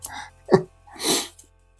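A single sharp human sneeze, close and fairly loud, with a short intake of breath just before it and a breathy release after, indoors and alone.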